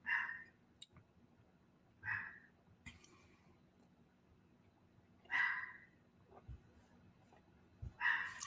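A dog named Max barks in four separate short bursts spaced a few seconds apart, sounding a little distant indoors, with scattered clicks and knocks between the barks.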